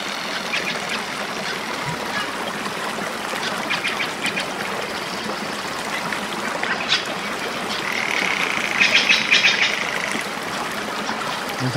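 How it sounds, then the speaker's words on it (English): Nature sounds: water runs steadily while birds chirp and call over it, with a brighter burst of chirping late, no voices. "is made from nature sounds, birds chirping, water running, occasional woodpecker"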